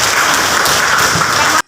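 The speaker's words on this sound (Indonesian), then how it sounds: "tepuk tangan untuk Rosa" A classroom of students claps for a classmate in a short, loud burst of applause with a voice faintly mixed in, ending abruptly.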